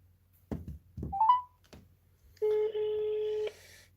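A phone call being placed: a couple of handset clunks and a short electronic chirp, then a steady ringback tone sounding once for about a second in a quiet room.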